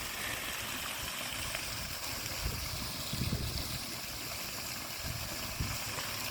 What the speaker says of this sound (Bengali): ঝর্ণাটা